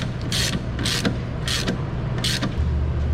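Wrench breaking loose a strut nut on a Dodge Challenger front suspension, giving four rhythmic ratcheting creaks close by over a low steady hum.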